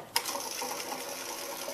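A sewing machine stitching a pocket onto a blind runs in a fast, steady mechanical whir from just after the start to the end, close and fairly quiet.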